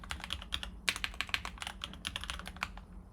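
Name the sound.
typing a password on a computer keyboard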